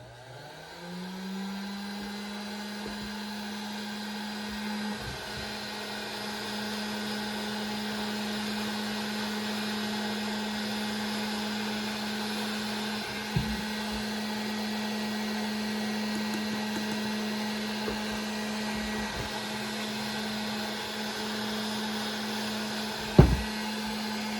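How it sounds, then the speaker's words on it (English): A heat gun runs steadily for powder painting a fishing jig head, a constant whirring drone with a faint tonal hum that starts at once and holds even throughout, broken by a few brief clicks and one sharp knock near the end. "So I'm going to fire up my heat gun."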